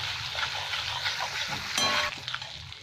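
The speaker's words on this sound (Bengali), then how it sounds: "মশলাটা ভালো ভাজা হবে" Whole crushed spices, cardamom, cinnamon and cloves, fry in oil in a pan, a continuous soft sizzle with a louder crackling burst and light stirring near the middle, no talk.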